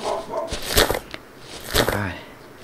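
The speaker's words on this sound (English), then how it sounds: "My dog's barking." A dog barks in a house during a Minecraft UHC game, two or three sharp barks heard close amid sporadic talk and game sounds.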